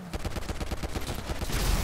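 A rapid string of sharp blasts from explosions in the video game GTA Online, sounding as an evenly spaced, loud burst sequence that gives way to a heavier rumbling roar at the end.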